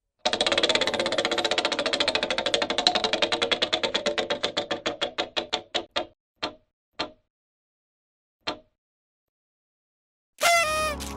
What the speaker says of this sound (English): So we bring back the Final Jeopardy wheel to spin